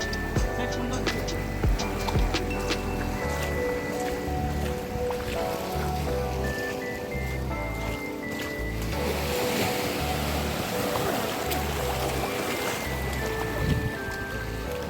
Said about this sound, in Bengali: সাগরের ঢেউগুলো ফিরে এসে আসতে পারছে